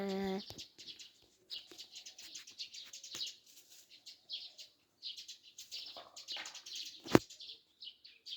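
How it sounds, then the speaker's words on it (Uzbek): Birds chirp and tweet almost continuously at a moderate distance, their high calls overlapping in a quiet outdoor setting, with a single sharp knock near the end. "Qushlar sayrayapti."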